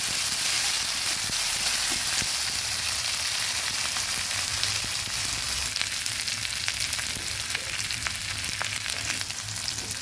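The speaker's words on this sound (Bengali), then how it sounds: "ভালোভাবে ভেজে নিচ্ছি আদাটা।" Ginger paste frying in a pan for a koi fish curry makes a dense, loud, unbroken sizzle and crackle, with faint stirring scrapes now and then.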